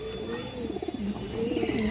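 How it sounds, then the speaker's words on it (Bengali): A female Kagji pigeon coos softly nearby, a few short low rolling throbs over faint background hum. "একটা চুষাল কাগজি মাদি কবুতর আছে, একদম বুট ঠোঁট দর্শক।"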